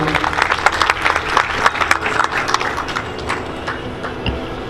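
An audience at an educational conference on a Sindh University campus in Thatta breaks into lively applause, sharp irregular claps close and loud at first, then gradually thinning and fading toward the end.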